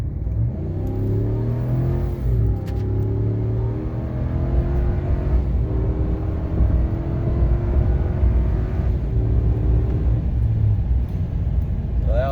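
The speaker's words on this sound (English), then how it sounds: "Hemi definitely pulls a lot harder than the diesel" Ram Laramie pickup with a Hemi V8 accelerating hard, a steady engine drone climbing through the gears with brief dips at shifts, heard from inside the cab with heavy road rumble underneath.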